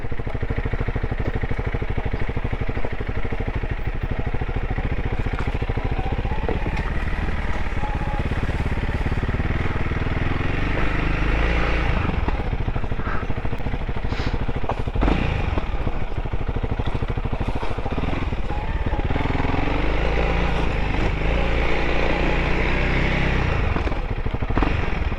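A Honda CRF300L dual-sport motorcycle with a full rear rack, riding at a steady pace, its engine droning loud and continuous with wind rush and occasional clatter from the bike and terrain.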